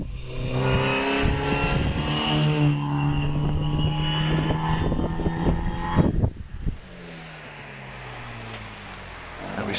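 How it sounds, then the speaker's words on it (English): A 2-litre MGA sports car, number 72, climbing the Prescott hill climb course, its engine revving loudly nearby before fading quickly into the distance as it pulls away. "And we see Ted Alves in the MGA, 2-litre MGA, car number 72, heading up towards Pardon."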